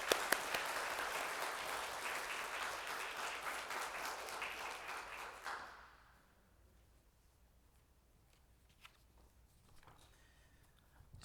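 Applause from a church congregation during a Sunday worship service rises as a dense steady wash of many hands for several seconds, then fades out into a quiet room with faint scattered sounds.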